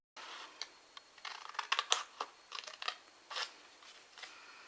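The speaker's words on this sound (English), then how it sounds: "we're going to bring in our scissors and we're going to cut this triangle away now" Scissors snipping a triangle out of card, a run of short, crisp cuts in an uneven rhythm, close and fairly quiet with brief pauses between bursts.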